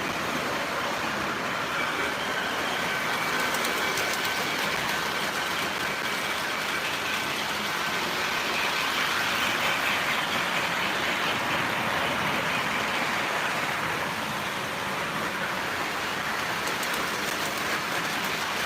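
An O gauge model train runs on a home layout, giving a steady, even rumble and rolling hiss that continues unbroken for the whole stretch, with no talking.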